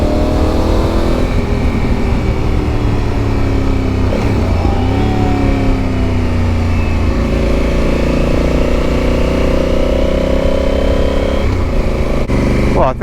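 Motorcycle climbing a winding hill on Portugal's N2 road, its engine droning loud and steady with rising and falling pitch as it shifts and accelerates, mixed with heavy wind rush, close and continuous.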